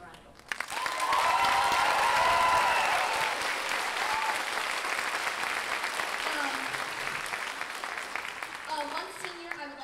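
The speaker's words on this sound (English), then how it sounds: "let's give them a round of applause" Audience at a high school production of Little Shop of Horrors applauds the seniors, a full, steady burst of clapping from a large crowd that swells quickly and holds, with scattered voices rising near the end.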